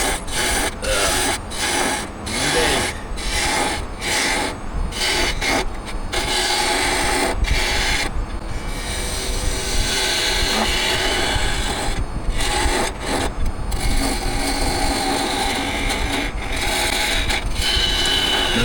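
Punky scrap wood is shaved by sharp turning tools on a lathe, a continuous close scraping and rasping with a rhythmic pulse as the tool meets the spinning piece, heard on its own without talk.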